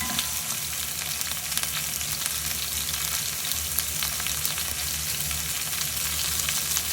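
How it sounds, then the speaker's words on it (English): Dried tomatoes fry in a hot pan for fish cooking, a steady close sizzle that holds level throughout with no voices. "And also going to add the dried tomatoes. I just let them cook for just a couple of seconds."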